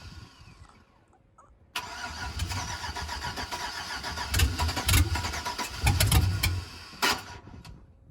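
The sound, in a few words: Chevrolet Suburban engine starting for the first time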